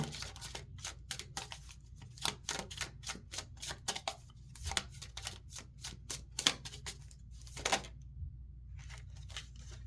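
Tarot cards drawn from a deck, giving a quick run of sharp, close, dry clicks and snaps that come in irregular bursts across the clip, with silent pauses between them and no talking.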